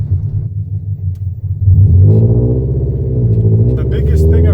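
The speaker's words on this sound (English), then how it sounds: "I'm gonna let the car warm up a little bit before I really start bashing on it." A Scion FR-S idling as it warms up, a low steady engine rumble that swells louder partway through and keeps a rough, throbbing drone, with a voice speaking over it.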